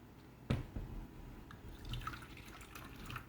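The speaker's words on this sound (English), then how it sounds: "As soon as I pour some water." Water poured into a slow cooker holding ground turkey, a sudden splash followed by soft trickling and dripping, fairly quiet and alone.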